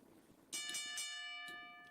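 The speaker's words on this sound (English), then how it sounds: "There's the bell" A ringside bell at a UFW wrestling event rings with a bright metallic clang, then several quick strikes that keep ringing over a hushed arena.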